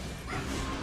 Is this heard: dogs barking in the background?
yes